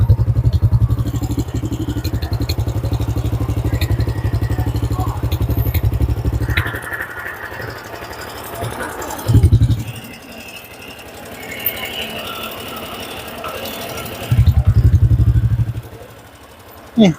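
A motorcycle engine idles and revs with a muffled, rapid chugging exhaust, loud and close, interrupted by short bursts of throttle and brief pauses.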